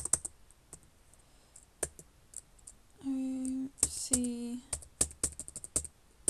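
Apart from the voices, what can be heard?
typing on a computer keyboard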